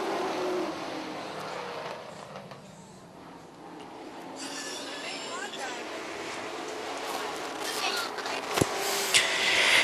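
Race cars at a short-track speedway event, a steady broad engine drone rising slightly toward the end, with a commentator talking over the field.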